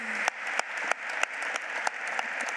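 Clapping at a seminar, with a steady wash of hands and a few sharp, distinct claps standing out at irregular moments, moderately loud and continuous.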